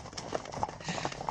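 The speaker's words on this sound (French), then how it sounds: "il va y avoir des bruits de chevaux" Horse hooves clip-clop from a horse-drawn carriage on a street in Lyon, a steady run of sharp, rhythmic strikes at moderate distance, with a faint murmur in the background.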